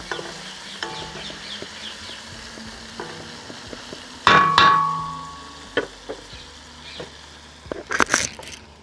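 Bay leaves and onions sautéing in a pan for a mutton curry, a steady low sizzle with scattered stirring scrapes and a louder clatter of utensil knocks midway and near the end, no talking.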